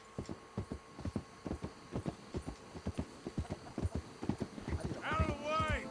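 Horse hooves clip-clop in a steady, fast rhythm in the video game Red Dead Redemption 2, close and distinct, and a horse whinnies near the end.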